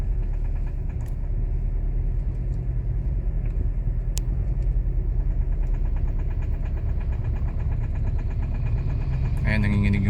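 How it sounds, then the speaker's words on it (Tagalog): A Kia Rio with a shift shock, stuck third gear and RPM dropping to zero idles roughly, giving a loud, steady low engine rumble with a faint tremor. A brief clatter comes near the end, and someone talks over it. "nanginginig yung makina niya."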